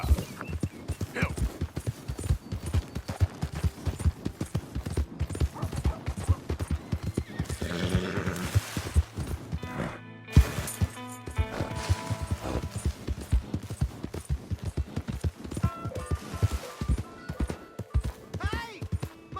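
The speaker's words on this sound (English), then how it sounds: "Hey! My horse!" A horse in the video game Red Dead Redemption 2, with steady clip-clopping hooves throughout and a loud neigh midway, while a voice speaks now and then over the riding.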